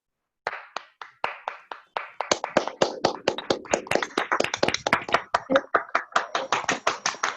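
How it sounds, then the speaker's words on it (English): Online audience members clap in applause for the panelists after a discussion on the credibility of the internal audit ecosystem. The claps are close and uneven, a thin start that builds into steady, overlapping applause. "give a warm round of applause for the panelists"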